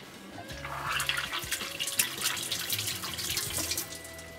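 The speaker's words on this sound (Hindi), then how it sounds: "ये जब तक पक रहा है हाथ धो लेते हैं।" Hands are washed under a running kitchen tap, a steady soft stream of water with splashing and rubbing sounds, fairly quiet and without speech.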